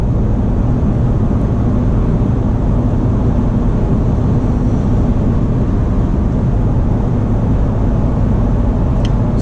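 A 2017 Ford F-250 pickup cruises along the road, a loud, steady low rumble of engine, tires and wind noise filling the cab without letup.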